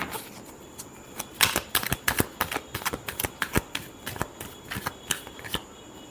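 A deck of tarot cards is shuffled by hand in a quick burst of crisp, papery riffles and snaps, close and clear with no talking.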